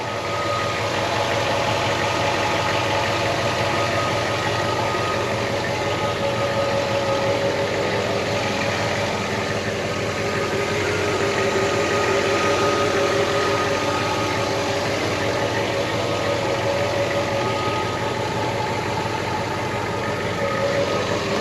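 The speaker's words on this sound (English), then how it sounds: "It idles real nice. Nice and quiet." A 1967 Chevy Camaro engine idles smoothly and quietly, a steady low rumble that holds even and unbroken throughout, close by, with no voices.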